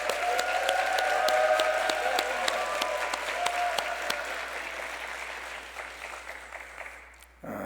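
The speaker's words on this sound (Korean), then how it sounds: "우리 강사님께 한번 뜨거운 박수 보냅시다." A church congregation claps for a preacher at a prayer-retreat gathering: sharp, fairly sparse hand claps over a sustained sung or organ-like tone, gradually thinning and fading before an abrupt cutoff near the end.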